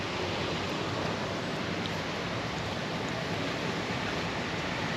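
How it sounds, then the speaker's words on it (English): River water below a former mill house in a park roars in a constant, broadband rush, a steady, unbroken roar heard from a short distance with no other sounds standing out. "I'm pretty sure once upon a time that river would have run under the house. It diverts now, as you can hear it roaring down there."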